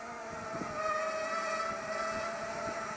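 A small Storm racing drone buzzes with a steady high-pitched whine from its motors while hovering in wind, continuous and moderately near, with faint low thumps underneath.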